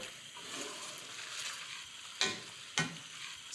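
Linguine in clam sauce with lots of parsley is tossed in a hot pan, giving a steady soft sizzle with two sharp scraping clatters of the pan near the end, close and moderately loud with no voices.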